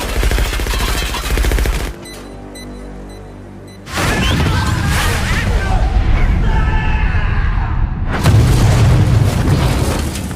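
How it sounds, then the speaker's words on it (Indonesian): An explosion set off by a trap in an action film, heard as loud booming blasts with a brief quieter gap, then more heavy bursts and rumbling; a narrator speaks over parts of it. "Dengan kejeniusan yang Clay miliki, Clay membuat jebakan yang mampu meledakkan dan membunuh tentara bayaran ini secara bersamaan."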